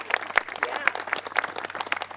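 A small audience gives a brief round of applause at a talk on a women's suffrage club, scattered distinct claps over a couple of seconds.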